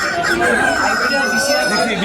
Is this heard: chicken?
yes